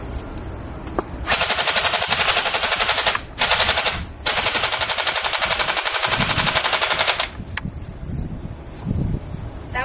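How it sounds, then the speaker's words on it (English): Toy gun firing at MP3 players sounds as loud rapid automatic bursts: a long volley, a brief gap, a short burst, then another sustained stream of fast shots before it stops. "The next test will be shooting these MP3s with this toy gun."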